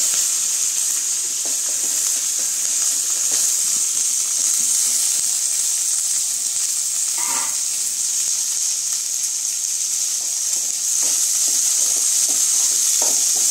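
Onions frying in a pan give a loud, continuous sizzling hiss with occasional stirring scrapes, close by and steady throughout.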